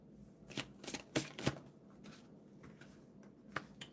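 Tarot cards being shuffled by hand, with a run of crisp riffling and slapping bursts that come in uneven clusters, loudest early on and tapering into softer shuffles, close and quiet with no talking.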